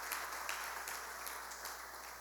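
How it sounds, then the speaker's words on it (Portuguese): A church congregation at a conference applauds together, a steady wash of dense clapping that holds at even loudness for a couple of seconds. "Podemos aplaudir a Jesus pela vida dos pastores."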